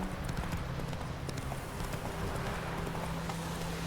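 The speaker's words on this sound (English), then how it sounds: "Whoa there, Roach." Horse hooves galloping in The Witcher 3 video game, a steady rapid clip-clop rhythm of the ridden horse running under a dense, loud layer of game ambience.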